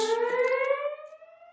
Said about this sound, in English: fire alarm at the state capitol